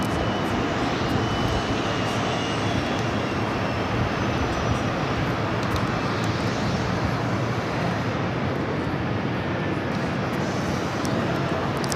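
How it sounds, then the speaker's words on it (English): A Delta Connection Endeavor CRJ 900 LR jet at JFK gives off a constant broad engine roar that stays loud and unbroken, with no voices over it. "Flight heading to Portland, Maine, Delta Connection, Endeavor, flight 5405 is CRJ 900 LR."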